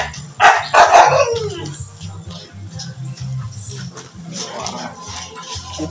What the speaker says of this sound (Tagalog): ito pala na yung mga aso ng Kalinga